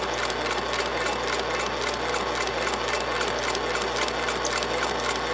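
An industrial sewing machine stitching material runs in a dense, steady, rapid mechanical whir with a fast needle rhythm, loud and close for the whole stretch, with no voices.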